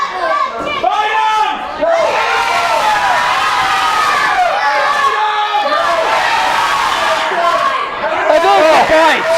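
Crowd at an arm wrestling match yelling and cheering loudly and continuously, many voices overlapping in a dense roar with shouts rising and falling throughout.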